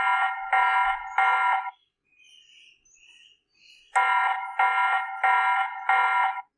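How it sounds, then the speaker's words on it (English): A TP-Link Tapo C200 security camera sounding its alarm siren with the light on: bursts of loud, harsh electronic beeping in a rapid repeating rhythm, three pulses, a pause with faint chirps, then four more pulses. "So now with both sound and light on"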